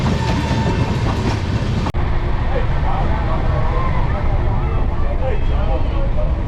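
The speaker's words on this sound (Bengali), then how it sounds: "ফ্ল্যাট 130-এ যাচ্ছে ট্রেন।" Heard from on board, the Santiniketan Superfast Express runs between Bolpur and Howrah at about 130 km/h, with a loud, continuous rumble and rhythmic wheel clatter over the rails.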